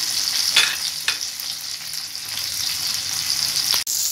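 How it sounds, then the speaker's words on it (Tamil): Sankara fish fries in a pan of oil on low heat, giving a steady close sizzle with a few sharper crackling spits and one brief clatter near the end, without talk. "சிம்மில் வச்சே பொறிச்சு எடுங்க"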